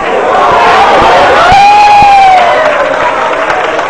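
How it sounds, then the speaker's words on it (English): A packed crowd at a pool match cheers and whoops loudly and continuously, one voice rising in a sustained shout above the roar, with a few claps cutting through. "The crowd is going crazy with every shot that this guy makes."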